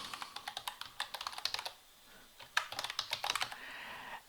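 Login credentials being typed on a computer keyboard into an Oracle EBS system: quick, close, crisp key clicks in steady bursts, a short pause midway, then a fresh run of rapid taps.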